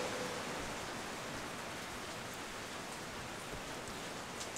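Steady rain falling during Hurricane Harvey, a dense, even hiss that runs close and fairly loud throughout, with no voices.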